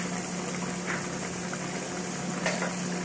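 A pot of shrimp and onion broth bubbles at a steady simmer nearby, a soft continuous gurgling hiss with small pops scattered through it, no voices.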